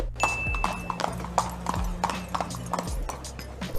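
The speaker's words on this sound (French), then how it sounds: "génère-moi une vidéo d'un cheval qui rentre dans un bar" Hooves clip-clop steadily as a horse walks into a bar in an AI-generated scene, a brief whinny rising among the near, rhythmic steps over a low room hum.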